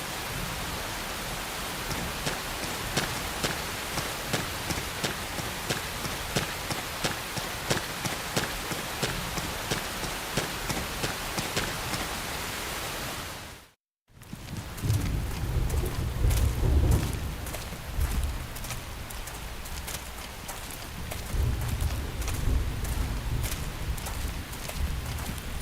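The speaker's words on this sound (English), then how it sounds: "The rain's starting to let up, just in time for sunrise." Rain and rolling thunder in a video game, a constant broadband roar of rainfall across the whole span with a brief silent gap midway, then heavier low rumbling thunder underneath the continuing downpour.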